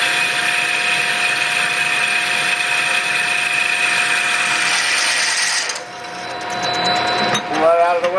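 A lathe turning a wheel at 550 RPM runs with a steady mechanical hum and a thin tonal whine. The drone eases briefly near the end, then resumes with a clattering, shifting texture.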